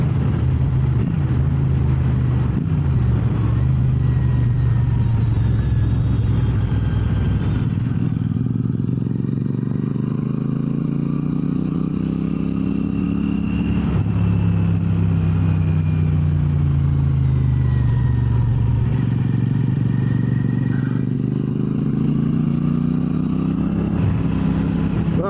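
A Royal Enfield Classic 650 motorcycle engine while riding, a steady loud drone with rising and falling pitch as it revs through gear changes, plus wind and road rumble, with no talking.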